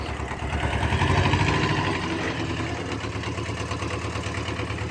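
A Japanese tractor idles while being maneuvered, its engine giving a steady low rumbling chug with light vibration and a slight swell early on, heard close with no talk.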